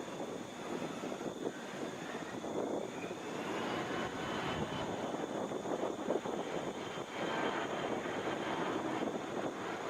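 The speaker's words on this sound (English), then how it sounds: "Taking off now, this is Air Canada Express, operated by Jazz Hands Aviation, Flight 950, to Toronto in a Mitsubishi CRJ 900LR." An Air Canada Express Mitsubishi CRJ 900LR regional jet takes off at Atlanta's airport, its engines producing a continuous rushing roar that swells gently over several seconds, with faint wind noise and no talking.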